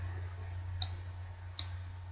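Two soft computer mouse clicks land roughly a second apart, close and faint, over a steady low electrical hum.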